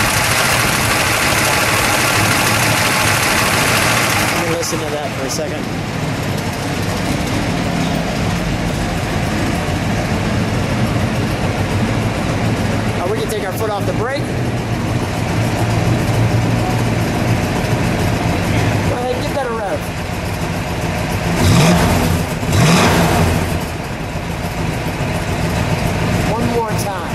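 Original 1966 Dodge Coronet 440 with its 426 Hemi V8 idling close by, a deep, uneven rumble that drops slightly after a few seconds and then lopes on steadily, with a couple of short blips and brief voices over it.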